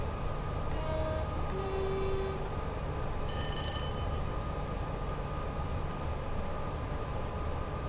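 A Pendolino train runs with a steady loud rumble throughout, and a brief horn toot sounds partway through the run, with no talking.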